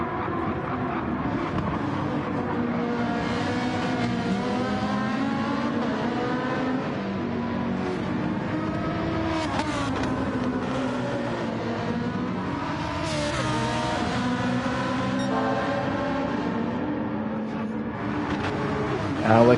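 Ferrari race car engine in a racing video game lapping Laguna Seca, a continuous high-revving wail with rising and falling gear-change pitch sweeps, loud and sustained under ongoing commentary.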